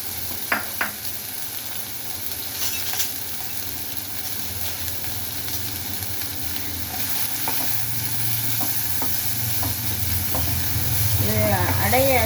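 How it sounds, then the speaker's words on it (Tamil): Leafy greens, destined for a ragi flour dough, sizzle and hiss steadily as they are lightly sautéed in a pan, with occasional stirring clinks and scrapes; the frying noise swells toward the end. "ரொம்ப வதங்க வேண்டியதில்லை லைட்டாக வதக்கினா போதும்"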